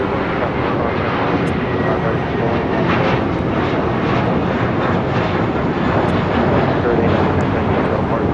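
A jet airliner at Los Angeles departs for Louisville, Kentucky, its engines producing a loud, sustained roar with a slowly pulsing texture across the whole stretch; a voice talks faintly underneath.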